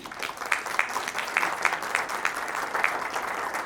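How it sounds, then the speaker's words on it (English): An audience at a business conference applauds, producing steady, moderately distant clapping that holds evenly throughout without talk over it. "Let's give Kira a big round of applause"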